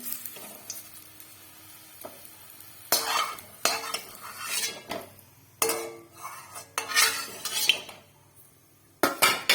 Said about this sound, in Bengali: রসুনগুলো ভাজা হয়ে গেছে, তুলে নিচ্ছি।